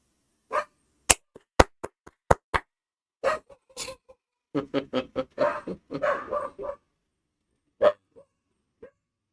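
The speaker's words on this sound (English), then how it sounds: "Damn dog." A dog barks in sharp, loud bursts, several rapid single barks followed by a volley of quicker yaps, then a few scattered barks trailing off, heard at a college football game broadcast's home setting with no talk over it.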